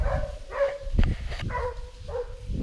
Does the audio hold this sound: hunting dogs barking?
yes